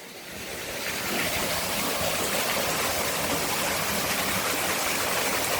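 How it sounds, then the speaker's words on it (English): A woodland waterfall and stream pour in a loud, steady broadband rush that swells up in the first second and then holds constant, close by and with no voices. "one of the waterfalls"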